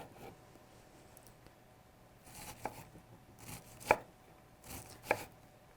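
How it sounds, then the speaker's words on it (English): A knife cuts into an onion in a few sharp, separate chops, with quarter-inch slices made during an adult cooking class at a library, over a quiet room. "make about 1/4 inch cuts into that onion"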